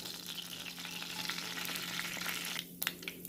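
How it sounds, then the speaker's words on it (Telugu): Mustard seeds and cumin crackle and splutter in hot oil, a continuous fine sizzle with scattered pops near the end, fairly quiet and close, with no voices. "ఆవాలు చిట్పట్లాడాలి"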